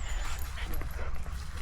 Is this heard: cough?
no